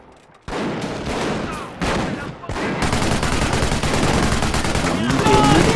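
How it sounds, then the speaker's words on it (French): Sustained video game machine gun fire, starting as short separated bursts then settling into a loud continuous rattle that runs to the end. "Une mitrailleuse fournit une excellente défense contre les attaques de l'infanterie."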